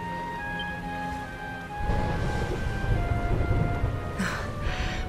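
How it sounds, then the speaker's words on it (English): Rain and rumbling thunder from a stormy scene in the video game Dragon Quest XI, a steady wash of downpour swelling in after a quiet, musical opening and holding under soft background tones. "Would you look at it thundering away out there?"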